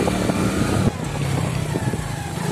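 A motorcycle carrying riders through sand in a village gives a steady, rough engine drone with slight wavering in pitch, close and continuous throughout.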